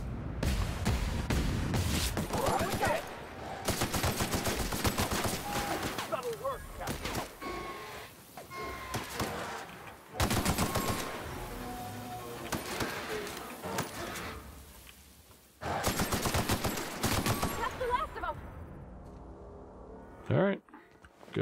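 Gunfire destroying cannons in the video game The Outer Worlds, with dense bursts of shots and impacts in several long loud stretches broken by brief pauses.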